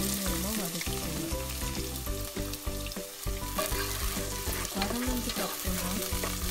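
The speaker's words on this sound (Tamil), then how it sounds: "கடுகு பொரிஞ்சதுக்கு அப்புறமா சிறிதளவு வெந்தயத்தை ஆவியில் போட்டு நல்லா கொஞ்சமா வதக்கிக்கணும்." Fenugreek seeds fry in hot oil with spluttered mustard seeds for spicy potato fry, a dense, steady sizzle with crackling pops and occasional spoon scrapes, close and continuous.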